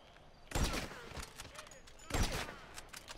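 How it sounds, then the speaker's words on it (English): Two loud bursts of gunfire in Grand Theft Auto V crack out about a second and a half apart, with a voice speaking faintly in between. "gunfire"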